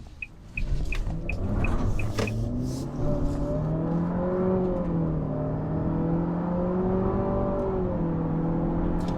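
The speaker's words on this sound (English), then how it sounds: "going for a drive in this 2023 Nissan Altima SR with the optional turbocharged engine" A 2023 Nissan Altima SR with the optional turbocharged engine accelerates from inside the cabin, the engine note climbing steadily in pitch through the gears under broad road and wind roar, with a few faint ticking chimes at the start.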